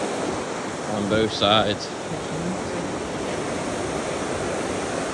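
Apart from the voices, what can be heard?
river water running below a bridge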